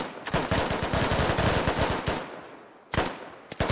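Rapid automatic gunfire from the military shooter game Squad rattles in a long dense burst, breaks off, then a couple of louder single shots follow, loud and close.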